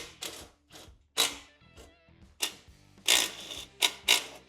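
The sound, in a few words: wrench removing half-inch muffler bolts on Harley exhaust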